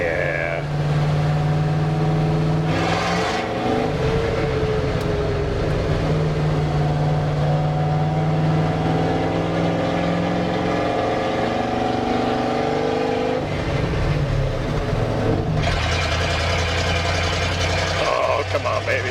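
A Chevrolet C20 pickup's engine running at fast idle: a steady, loud mechanical drone with low rumble that holds throughout, with voices talking over it now and then.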